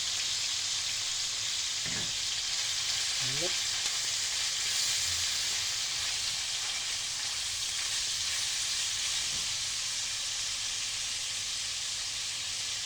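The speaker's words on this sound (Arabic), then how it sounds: "نحس بقى كده ان اللحمة اتحمرت معانا، ننزل بالثوم" Meat frying in a pan as garlic goes in, heard as a steady, moderate hiss of sizzling fat with a few soft clatters.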